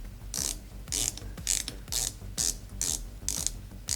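A titanium dive watch bezel, a Phoibos Apollo, clicks through a run of quick ratcheting turns in repeated bursts, crisp and close, with short pauses between.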